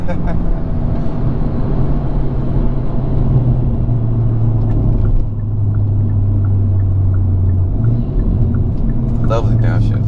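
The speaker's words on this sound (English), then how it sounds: "Lovely downshift." A Hyundai Veloster N engine drones loudly from inside the cabin, its pitch stepping down and back up in a downshift and rev, over a constant low road rumble.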